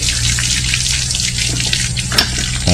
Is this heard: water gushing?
yes